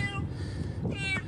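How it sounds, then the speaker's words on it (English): A cat meows in a short, close call that rises near the end, over a steady background of rushing water and murmuring noise from a Dubai flood. "One cat had a lucky escape."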